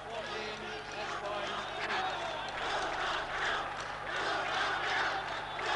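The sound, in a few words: cheering of Malaysian supporters at badminton match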